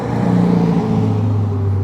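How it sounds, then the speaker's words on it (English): A white Corvette sports car driving past nearby, a loud steady engine drone and tyre rumble that holds strongly throughout the short moment. "It's a white Corvette."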